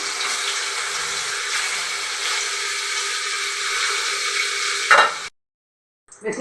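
Paneer pieces frying in hot oil in a kadai, a steady bright sizzle that runs for about five seconds, then cuts to silence before resuming briefly.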